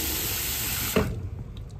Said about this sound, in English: and then you just add a little bit of water